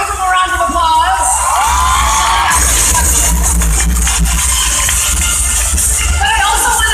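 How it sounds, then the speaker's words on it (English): An audience at a fan event for Park Seo-joon applauds and cheers loudly, with shrill whoops and shouts over steady clapping, sustained throughout, and a voice speaking briefly amid the noise. "Let's give him a round of applause."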